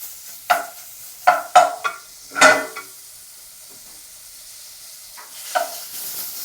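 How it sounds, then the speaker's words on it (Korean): Onions stir-fry and sizzle in a pot for Japanese curry, with a steady frying hiss broken by several sharp scrapes and clatters of a utensil against the pot. "이 양파 볶는 시간이 오래 걸리기 때문에 색깔이 조금씩 나고 있죠"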